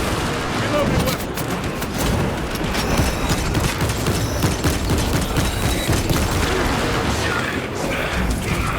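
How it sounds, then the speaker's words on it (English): Weapon reloading in the video game Warhammer 40K Space Marine 2, a dense run of metallic mechanical clicks and clanks buried in a loud, continuous wash of gunfire and battle noise. "Reloading weapon."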